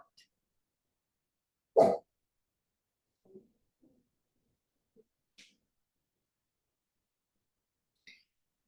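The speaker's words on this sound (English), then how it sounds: "Hear the sounds in your room, the sounds of the dog" In a quiet room, one sharp bark-like burst rings out close by, followed by a few faint, scattered small sounds and long stretches of near silence.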